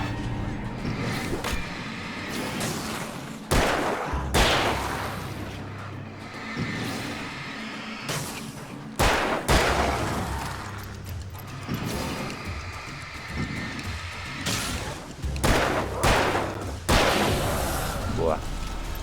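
Gunfire from the video game Alan Wake, a series of loud sharp shots and bursts spaced through the stretch over a dense, rumbling game soundtrack.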